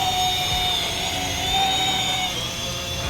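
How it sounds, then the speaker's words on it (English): A small white folding drone hums steadily in flight at close range, a constant whining buzz with shifting pitch that holds loud throughout. "Not a bad little drone"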